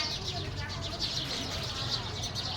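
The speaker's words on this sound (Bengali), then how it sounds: "এখানে প্রচুর স্প্যারো আছে অ্যাকচুয়ালি।" A dense chorus of sparrows chirps steadily from a tree outdoors, a continuous busy twittering with murmur underneath throughout.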